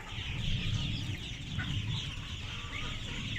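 A dense chorus of young Khaki Campbell ducklings peeping continuously, close by, over a low rumbling background.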